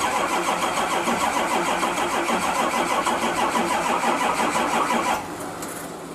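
Car engine cranking on a start attempt with weak batteries, a loud, steady, rapid chugging of the starter that runs for about five seconds and then drops to a quieter hum, with no talking.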